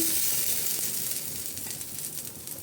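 Cassava flatbread sizzles steadily on a hot pan as a little oil is poured around it, a loud, close, continuous frying hiss with no voices.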